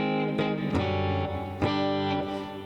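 An electric guitar plays through a NUX Mighty Air amp set to a clean tone, with strummed chords ringing out one after another and sustaining between attacks, close and fairly loud.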